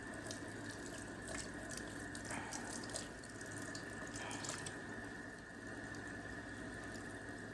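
Tap water running steadily into a sink while a makeup brush is rinsed beneath it, a constant close splashing hiss with faint gurgles, no voices.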